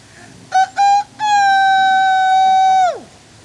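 A storyteller's voice imitates a rooster crowing in an Ivorian folktale: two short clipped calls and then one long sustained, falling crow, loud and close, with no other talk.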